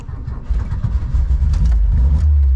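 A Scania V8 truck engine revs up as the accelerator pedal is pressed, a loud, close, rising roar that swells and holds to the end, with no voices.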